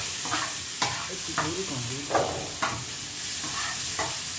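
Green chillies and onion frying in a pan, a bright continuous sizzle broken by repeated spatula scrapes and knocks at an uneven stirring rhythm, close and fairly loud.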